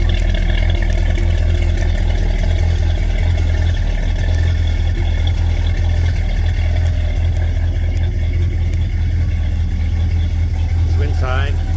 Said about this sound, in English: So let this idle. You can get a shot of the exhaust.